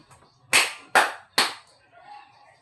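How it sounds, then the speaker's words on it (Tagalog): A class gives three loud, evenly spaced unison claps, sharp and close, with quiet room sound before and after. "Mahusay, bigyan si Cherry ng 3 palakpak."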